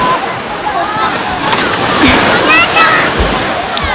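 Sea water sloshes and surf washes steadily nearby at Bonbon Beach, with faint voices and wind in the background.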